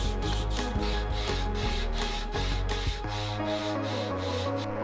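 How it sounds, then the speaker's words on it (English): Small wood pieces of walnut and maple being lightly sanded by hand with 220 grit sandpaper, a close, steady rhythmic scratching with even back-and-forth strokes. "I gave them a light sand with 220 grit sandpaper"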